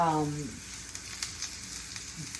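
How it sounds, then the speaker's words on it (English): Onions frying in a pan for a mushroom burrito, a steady close sizzle with light crackles, after a brief voice in the first half second. "So I'm just getting those onions going."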